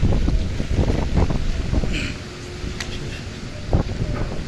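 Strong gusts of Cyclone Remal buffet the microphone at Sadarghat river port, a loud, continuous roar of wind with brief surges and scattered knocks, no voices.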